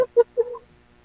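A few short chicken clucks, two quick bursts then a longer drawn-out note, fairly close and alone.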